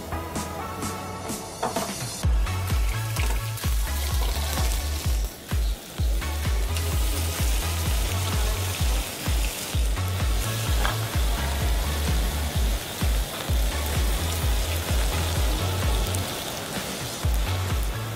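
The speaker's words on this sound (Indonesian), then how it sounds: "Kita akan masak tunanya dulu" Tuna fries in a pan with a loud, continuous close sizzle and crackle like heavy rain, steady throughout with no talking.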